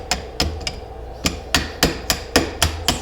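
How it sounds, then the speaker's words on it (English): A hammer gives light taps to a part of a Ruger MKIII pistol during a Volquartsen trigger install, about ten sharp, evenly spaced metallic knocks, close and loud with no talking. "And by coaxing, I mean with a hammer. So light taps."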